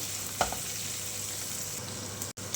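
Garlic and ginger sautéing in a few spoons of oil, a soft even sizzle with one or two quick stirring scrapes, fairly quiet and close, no talking.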